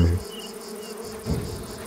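Bees buzz around a beehive in the medieval colony-building video game Going Medieval, a close, steady insect drone with a brief swell partway through.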